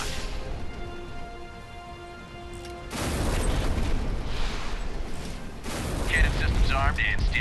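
Warship missile launches and cannon fire in the naval combat game Warships Mobile: after a quieter stretch with steady tones, dense booming blasts and rumbling gunfire fill the rest, loud and continuous with a few sharper bursts.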